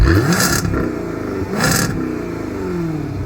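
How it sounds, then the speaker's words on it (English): A 2024 Jaguar F-Type R75 supercharged 575-horsepower V8 sports car engine revs hard, its deep roar swelling and falling twice with bursts of raspy noise, loud and close. "But the best part of this car is how it sounds. It sounds absolutely incredible."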